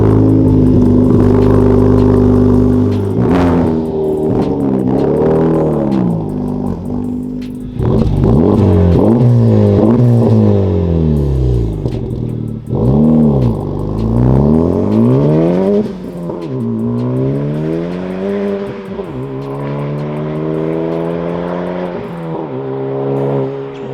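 A Honda Civic Type-R FL5 fitted with an AWE track exhaust is revved hard again and again, loud and close, with sweeping rises and falls in engine pitch and raspy exhaust tone and no voices.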